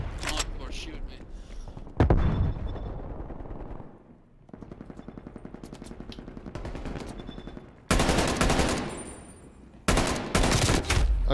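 Rapid automatic gunfire in a Call of Duty Black Ops Cold War Hardpoint match, loud bursts that break off and then resume in sharp volleys over about eleven seconds.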